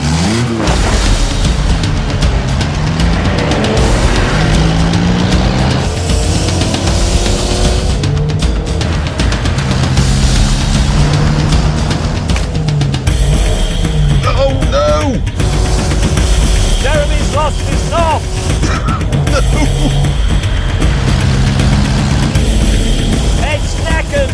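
FSO Polonez with a 2.1-litre, 62-horsepower engine accelerating in a race, a loud, rough engine roar climbing through gears under constant wind and road noise, with rising and falling pitch sweeps and some voices mixed in.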